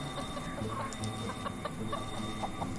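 Hens in the Myths of the World video game cluck in short scattered bursts over a steady ambient background, fairly faint and close, with no speech.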